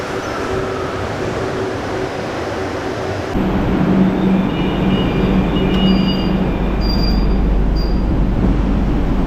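Steady rumble of a Kolkata Metro Orange Line train in motion, growing louder partway through, with faint high squeals and whines from the wheels and motors.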